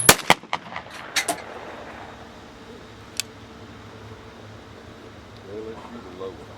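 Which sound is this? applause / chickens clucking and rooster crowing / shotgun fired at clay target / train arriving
shotgun fired at clay target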